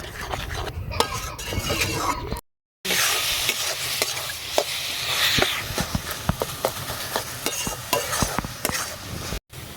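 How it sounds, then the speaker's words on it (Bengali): Pointed gourd mash being stirred in a pan until its water cooks off, with a spoon scraping and knocking steadily against the metal over a soft sizzle, close and continuous, with one brief break. "জলটা শুকনো পর্যন্ত এটাকে ভালো করে টানিয়ে নেব।"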